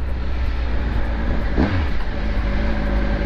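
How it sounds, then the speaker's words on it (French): A 2018 Triumph Speed Triple RS motorcycle with factory Arrow exhausts roars steadily and loudly while riding, a constant engine drone with a brief pitch sweep partway through. "c'est une sonorité de ouf. Donc d'origine la RS est équipée d'échappements Arrow."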